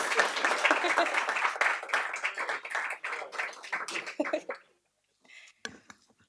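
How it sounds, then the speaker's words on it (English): An audience at a policy roundtable event applauds with dense, sustained clapping for several seconds, then it cuts off and a few scattered claps follow. "give them a round of applause"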